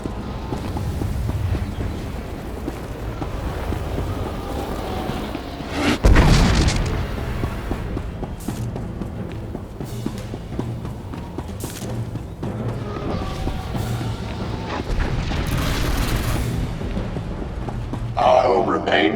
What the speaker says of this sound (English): do not concern yourselves with the harmless exchanges of ionized plasma overhead